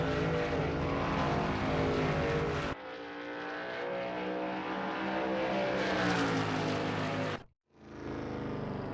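Shelby Mustang GT350R race car in a sim racing game at Blackwood, its engine loud and steady as it revs up through the gears with a clear shift, then a brief cut near the end.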